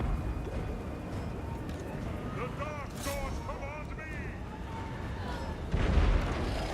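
A hell cannon fires artillery in a Total War: Warhammer II battle, with a rumbling battlefield bed and a heavy boom near the end, while a voice talks over the din.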